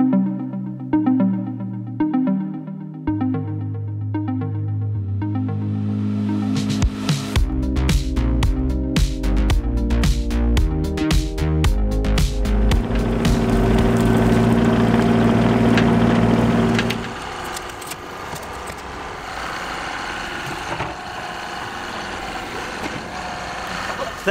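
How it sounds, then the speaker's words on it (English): An excavator trenching a water line from the road tap idles, then revs and works with heavy clanking and hydraulic strain for several seconds before settling back to a lower engine drone. "I've got the excavator up here at the road, right where our water tap is installed."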